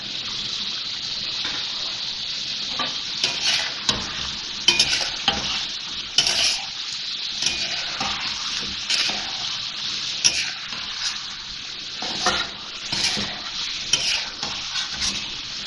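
Julienned ginger and chopped green chillies sizzle and crackle in hot oil in a karahi, a constant close frying hiss broken by stirring scrapes and small pops throughout.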